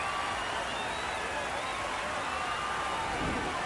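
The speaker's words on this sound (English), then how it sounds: "the whole house is erupting in applause." Broadband roar of a large crowd applauding and cheering at a minor-league baseball game, San Antonio Missions vs Amarillo Sod Poodles, steady and dense throughout, with faint whistles rising over it.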